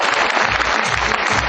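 Dense audience applause from a seated crowd at a talk or motivational event, steady many-handed clapping filling the short stretch, loud and close with no voices over it.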